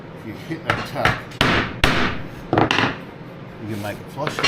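A small hammer strikes a tack weld on an aluminium gate frame, several sharp metallic taps spaced unevenly, close and loud, with a voice speaking faintly in between.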